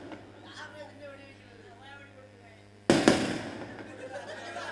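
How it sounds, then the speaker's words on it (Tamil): Firecrackers bursting at a village festival during a night drama performance, a sudden loud crackling barrage erupting after a stretch of chatter and music, then rattling on under the background voices. "வெடி போடுறது சாமிக்காக"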